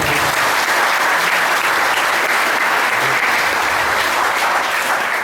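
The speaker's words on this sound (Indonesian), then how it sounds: "Tepuk tangan dulu." Loud, dense applause from a large audience at a youth meditation gathering, a continuous even roar of clapping throughout.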